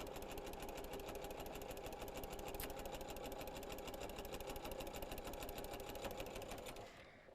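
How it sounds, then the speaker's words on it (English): A sewing machine runs steadily at a fast, even mechanical rhythm, close and continuous, then winds down and stops near the end. "it's just soothing hearing the rhythmic sound of the sewing machine sewing"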